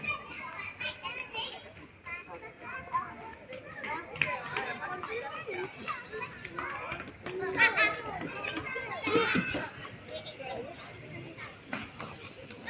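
Children playing at an outdoor playground in Ang Mo Kio, Singapore, a lively mix of kids' shouts, chatter and calls at moderate distance, with brief louder squeals in the middle.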